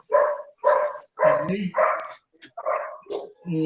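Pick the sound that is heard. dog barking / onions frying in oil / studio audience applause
dog barking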